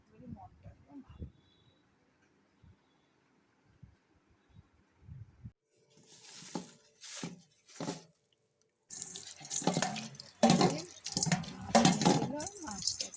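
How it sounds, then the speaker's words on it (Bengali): Water runs from a tap as fish are washed in a home kitchen, starting as quiet handling noises and swelling into loud splashing and rushing water in the second half. "মাছটা ধুয়ে নিচ্ছি প্রথমে।"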